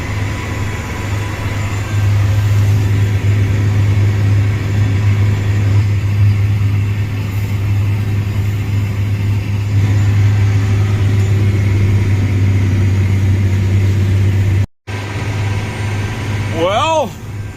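A tractor engine runs steadily during a day of tillage with rippers on a cold farm, a low droning hum that holds close and even throughout, with a brief dropout near the end and faint chirps after it.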